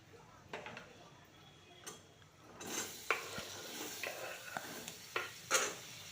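A spoon stirs a guava curry with red chilli, garam masala and turmeric in a pan, soft scraping and clinks that start quiet and grow louder, with a light sizzle underneath.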